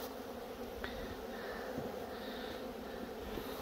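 Honeybees in an apiary swarming around a syrup bucket, a dense continuous buzzing drone close by, steady in level with occasional individual bees passing louder, no speech.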